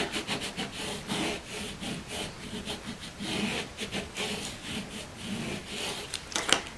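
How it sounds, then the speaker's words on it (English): Transfer tape rubbed down hard with a burnishing tool during a craft project, producing a steady run of close, scratchy back-and-forth strokes with no voice over it. "I'm going to put down and again burnish it."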